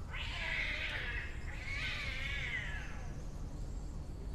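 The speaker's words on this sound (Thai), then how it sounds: "ได้ยินเสียงแมวไหมคะ" A cat yowls loudly nearby in two long, wavering wailing cries, the second trailing off, followed by a quiet stretch with only faint background hum.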